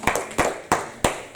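A church congregation claps hands during a sermon, four sharp, evenly spaced claps ringing out clearly with no talk over them.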